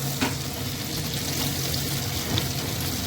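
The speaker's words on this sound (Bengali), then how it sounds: "দেখো, এটা হালকা একটু ফ্রাই করবো, ক্যাপসিকাম বেশি ফ্রাই করবো না।" Capsicum and green chilies frying in a pan, a dense, steady sizzle with faint occasional stirring, close and even throughout.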